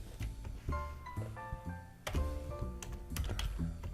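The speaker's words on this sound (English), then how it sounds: "We will type in" Computer keyboard typing text for a MadLibs exercise: steady run of close key clicks and thunks with uneven rhythm, over a faint tonal hum in the background.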